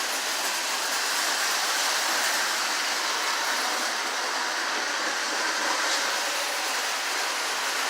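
Several model trains run together on a layout, a continuous dense rushing rumble of wheels on track, steady and fairly loud with no breaks.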